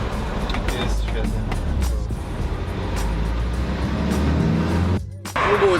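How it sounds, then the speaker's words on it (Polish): A car with a newly replaced engine drives fast, its steady low road and engine rumble filling the cabin throughout, with a brief dip near the end, while voices talk over it. "ten samochód zapierdziela teraz"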